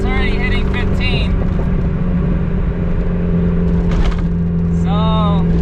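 A car engine pulls steadily in third gear, a loud constant drone with rising whine tones, while someone speaks over it close by.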